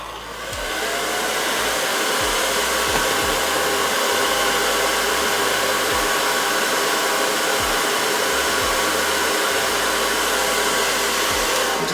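A handheld blow dryer runs steadily and loudly throughout, drying curled hair, its constant whooshing airflow and motor whine unbroken by speech.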